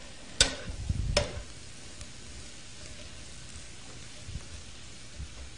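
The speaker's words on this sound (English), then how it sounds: "I can hear some little sizzling going on" Mushrooms saute in a pan over high heat, with two sharp clatters of stirring early on before a faint, steady sizzle carries on alone.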